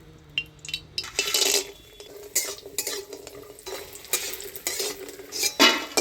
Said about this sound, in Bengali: প্রথমে ডালের বড়িটা ভেজে নিই।